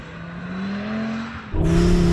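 A car with a rear differential accelerates hard under full throttle in sport stability mode, its engine note rising steadily before a louder surge near the end; no talk.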